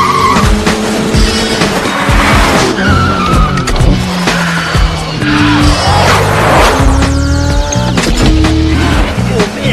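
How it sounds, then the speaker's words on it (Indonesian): A car tears at full speed through a busy street in a movie chase, its engine roaring loudly and continuously while tires squeal and skid repeatedly, with other traffic rushing past. "Dengan kecepatan penuh, Frank mampu membawa mobilnya ugal-ugalan di jalan yang ramai."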